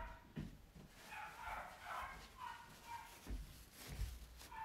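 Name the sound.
dogs barking and fighting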